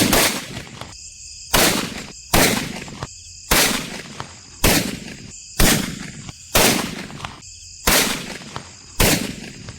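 A Lakshmi firecracker garland going off outdoors in a village, ten loud, sharp bursts spaced about a second apart, each with a ringing crackle and short decay, with no voices.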